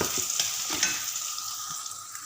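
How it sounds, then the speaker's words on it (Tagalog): Hotdogs frying in a pan with chili, a steady close sizzle with a few stirring clicks and scrapes, no voices. "Lutuin lang natin si hotdog. At syempre, ilagay ko na si sili."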